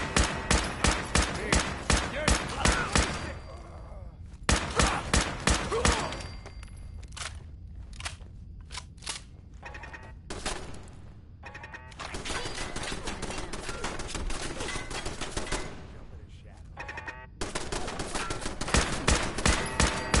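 Automated turret machine gun fire in the video game Fallout 4 comes in loud, rapid bursts of shots, broken by quieter stretches of softer thuds and scrapes before the firing resumes.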